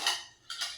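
A metal pot lid and kitchen utensils are handled, giving two quick bright clinks and rattles about half a second apart, fairly quiet, with no talk.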